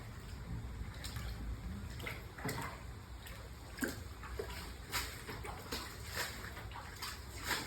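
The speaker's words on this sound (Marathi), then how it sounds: "पूर्ण आमच्या घरात पाणी आले" Sloshing, splashing floodwater from unseasonal rain moving around inside a house nearby, with scattered clicks and splashes over a low continuous wash.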